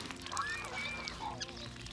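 Faint calls of Muscovy ducks and soft chirps drift through a quiet outdoor farm background, low in volume.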